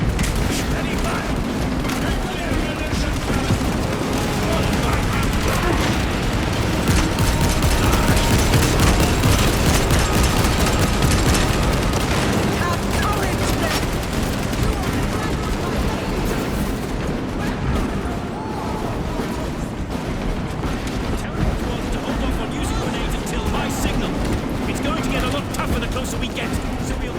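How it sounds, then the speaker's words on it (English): Sustained heavy gunfire and explosions from a Warhammer 40k video game battle, a dense, loud barrage of shots and booms running throughout, with voices shouting over the din. "Ready, fire!"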